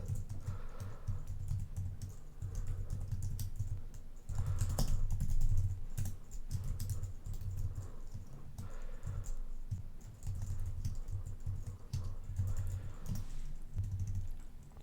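Steady computer keyboard typing while code is entered, a fairly close and continuous run of key clicks with brief pauses between bursts and no voices.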